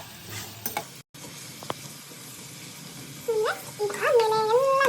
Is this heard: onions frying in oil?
yes